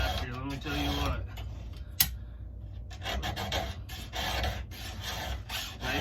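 A hand file sharpening the chain of a Stihl MS 441 chainsaw, rhythmic rasping strokes close by with a sharp click partway through and short pauses between strokes.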